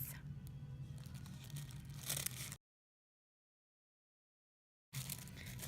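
Scissors cut through tissue paper for a traditional piñata, a soft papery snipping and rustling close by, broken by a sudden gap of silence midway before the crinkling resumes.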